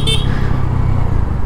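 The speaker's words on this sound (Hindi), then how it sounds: "और ये देखिए टिचकी टेस्ट, मतलब बाइक ज़रा भी इंजन जो है ज़रा भी नॉक झटका वगैरह नहीं मारती" The 110cc engine of a 2022 TVS Radeon motorcycle runs loud and close in a steady, even rumble as the throttle is blipped.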